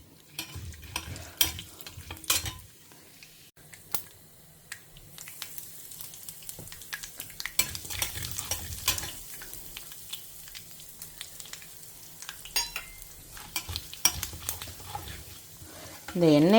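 Mustard seeds and urad dal frying in hot oil in a home kitchen, a faint, steady sizzle and light crackle with occasional stirring, quiet and close.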